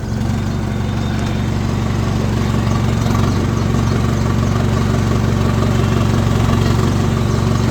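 A modified tractor's diesel engine idling, a loud, steady low rumble with a throbbing rhythm that holds evenly throughout, with no start-up heard.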